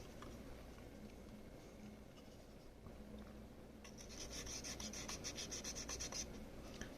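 A fiberglass pen scrubs the contacts of an NES game cartridge with soft, rapid rasping strokes, quiet at first and then a quicker, brighter scratching burst near the end.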